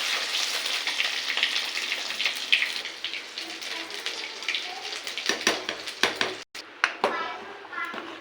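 Ginger tempering dropped into hot oil for khichuri, giving a dense crackling sizzle close by that later breaks into sharper spattering pops, with a voice talking over part of it.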